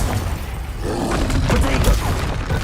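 In the game Hogwarts Legacy, the Confringo blasting spell fires with a dense, roaring burst of booming noise and rumble that stays loud throughout, with game effects layered on top.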